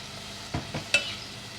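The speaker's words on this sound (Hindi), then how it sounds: "अब हम इसको उस वक्त तक भूनेंगे जब तक हमारा घी ऊपर नहीं आ जाता" Bottle gourd halwa with almonds and pistachios roasting in ghee in a pan, heard as three quick, close stirring scrapes over a faint, steady background.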